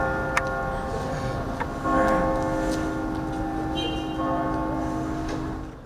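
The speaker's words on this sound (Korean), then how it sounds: "성공회 서울주교자 성당에서 종오를 알리는 종소리가 울립니다." Noon bells ring out from the Anglican Cathedral in Seoul, a few clear strikes rising over a steady city background hum, with no voices.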